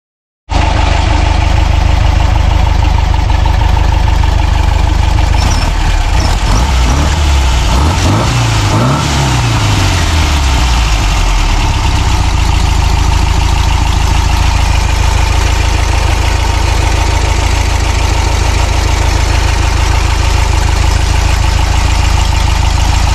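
A car engine running loudly and steadily after being fired up, a constant close idle roar with a brief rise and fall in pitch partway through, with no talk.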